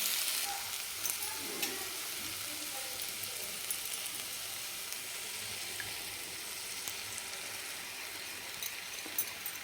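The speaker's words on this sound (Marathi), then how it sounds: "त्याच्यामध्ये आता आपण हे फेटलेले अंडे सोडून देणार आहे।" Beaten egg in frying masala gives off a steady, broad sizzle that hisses evenly throughout, with faint scattered pops and occasional soft stirring underneath.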